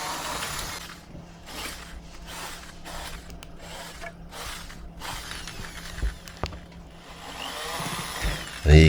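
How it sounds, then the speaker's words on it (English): A power drill whirs in repeated bursts, biting into wood battens on the underside of a folding work bench deck several times in a row, with short pauses and clunks between holes. "here you can see me just drilling holes for the battens"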